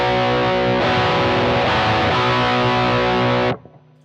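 Distorted electric guitar chords ring out loud and sustained for about three and a half seconds, part of an alternative rock song, then cut off abruptly into a faint decaying tail.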